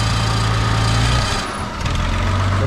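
A Farmall 560 tractor engine, fitted with a distributor and electronic ignition, idles loud and close just after starting, a steady drumming rumble that briefly dips and recovers as the throttle is nudged.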